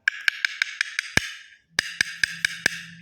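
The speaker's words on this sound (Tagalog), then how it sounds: "So, ganito ang tunog ng kapak." Sharp knuckle taps on a hollow, unbedded floor tile ring out close by, a quick run of about seven even knocks with a short pause, then five more, each with a bright ringing tail.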